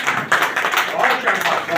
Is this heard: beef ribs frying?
no